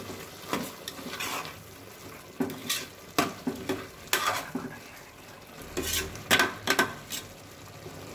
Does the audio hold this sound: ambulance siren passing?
no